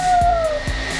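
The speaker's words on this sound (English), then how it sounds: "I'm going to turn on the hair dryer." A hair dryer runs as a steady broadband whoosh under a faint tonal whine, with soft low thumps, blowing continuously through the second as a ping pong ball is set to float on its airflow.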